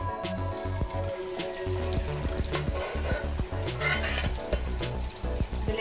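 Cooked beef with gravy frying in hot oil in a pan, a loud continuous sizzle with stirring clatter and scraping, close up with no talk.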